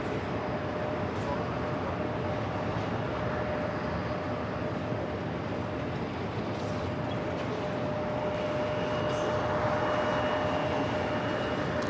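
Aeromexico Dreamliner jet airliner at JFK airport, a steady broadband engine roar that holds evenly throughout, with a faint tonal whine running underneath and radio chatter in the background.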